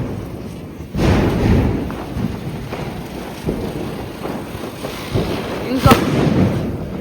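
Diwali firecrackers burst at midnight in India with sharp bangs and thuds, one loud pop near the start and another crack later, amid crackling and people talking close by.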